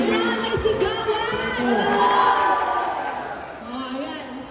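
Crowd of children and adults cheering and shouting together at an outreach gathering in Cabalan, a dense sustained roar of overlapping voices that swells mid-way and then eases off.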